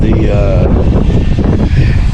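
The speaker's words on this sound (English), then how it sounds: "there's going to be some wind. It's windy today." Strong wind blows steadily outdoors, a loud continuous rumble and roar buffeting the area around a Ford 5610 tractor, with someone talking over it throughout.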